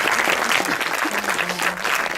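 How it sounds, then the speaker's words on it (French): Loud, sustained applause from a film festival audience, a thick crowd of clapping hands right up close with a faint voice briefly audible underneath. "On applaudit très très fort Yann."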